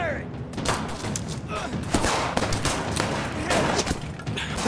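Sustained gunfire in the video game As Dusk Falls, a dense run of loud shots and impacts lasting the whole stretch, with music and effects mixed in and voices talking over it.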